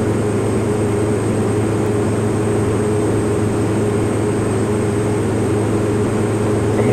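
A Pilatus PC-12 single turboprop accelerating on its takeoff roll in the X-Plane 11 flight simulator, a loud, steady engine and propeller drone with a constant high whine running unbroken throughout.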